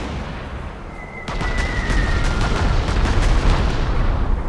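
Bombs hit targets in the strategy game Panzer Corps 2 with a deep explosive thump, followed by a rolling, crackling barrage of blasts and rumble that continues to the end.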